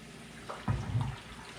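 Two cups of water are poured into a pot of salt to make brine for ginger dill carrot pickles, a short close splashing pour that swells for about half a second and then trails off.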